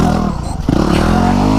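Dual sport motorcycle climbing a staircase under hard throttle, its engine droning loud and close with clattering and scraping as it lurches upward, the pitch rising after a brief dip.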